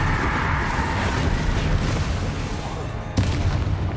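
Bombarda explosion spell in the Hogwarts Legacy video game, heard as a loud, continuous rumbling blast that rolls on for several seconds, with a sharp crack near the end.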